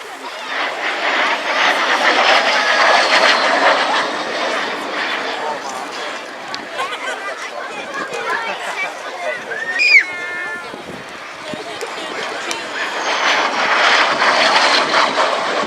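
A MiG-15 jet at the RAF Cosford airshow, its broad engine roar swelling and fading as it passes at a distance while a commentator talks over it throughout.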